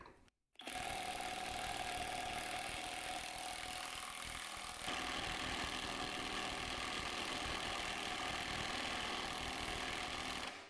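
A Skil 1/2-inch impact wrench, rated at 800 ft-lbs, runs at speed setting 3 after a brief pause, producing a continuous loud, dense hammering rattle for about ten seconds that grows slightly harsher midway through.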